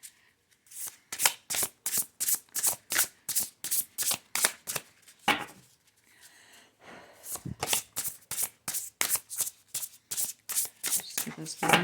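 A deck of oracle cards shuffled by hand in steady rapid riffles, each burst a crisp papery flutter, repeating about twice a second with one short pause midway, close and clear.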